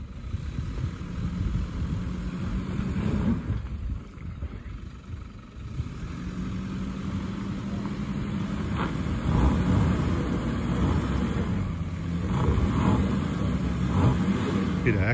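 A 4WD vehicle's engine labours steadily as a wheel spins slowly under traction control, the left rear digging a hole during wheel-lifting off-road driving, a continuous rumbling drone with brief dips and surges, close.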